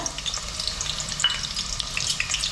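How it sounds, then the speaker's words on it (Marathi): Onion frying in four spoons of hot oil inside a pressure cooker for a mutton curry, a steady close sizzle with faint crackles throughout, no talking. "चार चमचे तेल घातलेले कुकरमध्ये आता हे गरम झालेले तर त्याच्यामध्ये आपण कांदा परतून घ्यायचा आहे"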